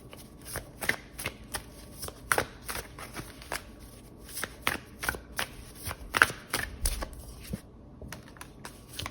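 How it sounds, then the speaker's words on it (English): Tarot cards being shuffled by hand, a steady series of about a dozen crisp riffling and tapping bursts, close up and alone. "And I want to pull a few more cards here."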